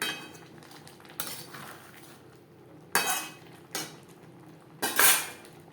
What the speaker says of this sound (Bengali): ধনেপাতা মাছের ডিম ও বেগুনের সাথে বেশ ভালো করে মিক্সড করে দেবো।